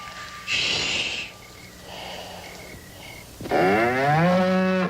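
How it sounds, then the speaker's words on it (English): A cow snorts and breathes heavily, then lets out a long, loud moo at the end, close by with no talking. "Oh, it's just your cow. I guess they always make noises when they sleep."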